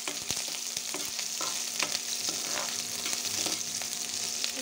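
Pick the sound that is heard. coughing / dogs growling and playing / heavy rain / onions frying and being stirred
onions frying and being stirred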